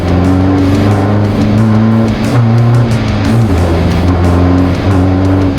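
Toyota Revo Fortuner with a variable-geometry ball-bearing turbo pulls hard in fourth gear, a loud steady engine drone with layered harmonic tones rising smoothly and continuously, close and unbroken throughout.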